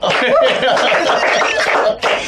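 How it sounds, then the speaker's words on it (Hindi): A comedy-show audience breaks into dense applause mixed with laughter and chatter, a loud, continuous wash of clapping that holds steady and dips briefly near the end. "यही जवाब है, जोरदार तालियां।"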